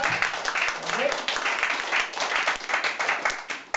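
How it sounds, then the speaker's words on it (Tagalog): A church congregation applauds steadily, many hands clapping in a dense, lively patter that continues throughout at a moderate distance. "Yan ang palakpak!"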